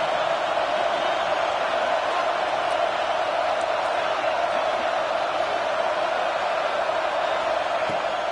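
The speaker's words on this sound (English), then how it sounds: "how nice is it to have the home crowd going absolutely bananas" A home crowd at a football game roars loudly and steadily for the whole stretch, a dense, unbroken wall of cheering with no single voice standing out.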